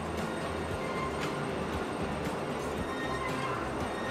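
A Stadler KISS double-deck train in the Transport Fever 2 video game rolls along the tracks with a continuous rumble, its wheels squealing faintly and a few periodic clicks of the rails.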